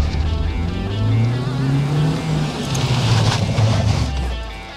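A car engine revs hard and continuously while drift driving, loud and close, with the pitch sweeping up and down and tire noise building over the last few seconds.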